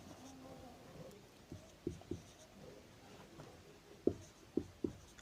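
Numbers are written by hand with a pen on paper, giving a few soft scratching strokes and light taps scattered across a quiet room, faint and close.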